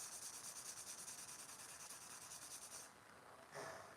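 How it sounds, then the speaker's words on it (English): Rhythmic back-and-forth rasping of sandpaper rubbed by hand over primed wood furniture, fast repeated strokes, then a pause and one more short scrape, close up. "Just make sure you're sanding it till it's nice and smooth."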